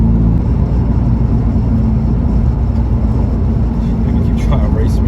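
Steady, loud engine drone inside a lowered BMW F80 M3 with stage 2 turbos on 20-inch wheels, heard from the cabin while driving, a constant low rumble throughout with a person talking over it.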